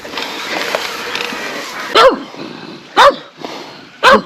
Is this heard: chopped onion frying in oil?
no